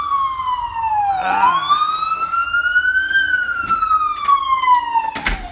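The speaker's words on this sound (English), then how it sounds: "Ambulance." A loud, close ambulance siren wails, its pitch dipping then sweeping up and slowly falling again, continuous over a background of traffic.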